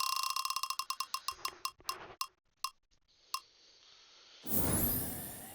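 A bell in a case-opening game rings in a rapid series of bright, sharp strikes that slow and space out, ending in a burst of noisy rustling.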